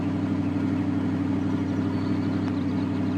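A Ford F-150 pickup engine idles steadily in the Farming Simulator 2013 game mod, a loud continuous low rumble holding level throughout, with one faint brief click near the end.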